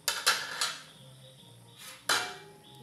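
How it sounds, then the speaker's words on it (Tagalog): A metal lid clatters onto a cooking pot of fish sinigang with okra and fern shoots, several sharp clanks close up, a cluster at the start and another near the end. "Takpan muna natin siya."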